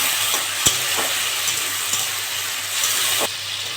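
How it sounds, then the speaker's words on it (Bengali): Prawns fry in a pan with onion, giving a constant loud sizzle punctuated by a few sharp spoon knocks and stirring scrapes. "চিংড়ি মাছটা দিয়ে একটু ভেজে নিয়েছি।"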